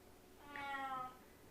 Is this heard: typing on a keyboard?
no